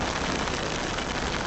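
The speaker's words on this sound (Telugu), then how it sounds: "అంత హెవీగా కొడుతుంది రెయిన్ అయితే" Heavy rain during a motorcycle ride on a Hyderabad to Ladakh trip, a dense, steady roar of downpour and wind with no break across the short stretch.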